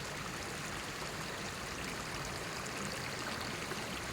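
Water streams steadily along a newly formed river in Nairobi County after heavy rain, a dense, even rushing and trickling wash heard close and alone without talk.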